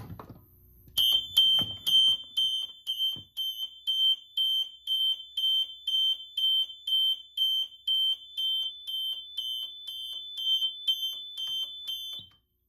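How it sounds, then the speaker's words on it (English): A Fire-Lite fire alarm control panel sounds a subsequent alarm, a loud, piercing electronic tone pulsing steadily about once a second for roughly eleven seconds, after brief low handling noises. "Now let's do a subsequent alarm."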